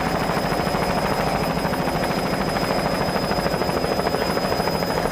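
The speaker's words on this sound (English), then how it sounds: "As we move away from Powerlips and hear our helicopter in the background" A helicopter flies over a 1993 powerboat grand prix, its rotor drone loud, steady and continuous from start to finish.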